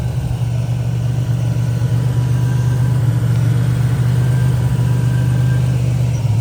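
The engine of a 1987 Buick Grand National idles with a steady, even low rumble, close and constant with no revving and no talk.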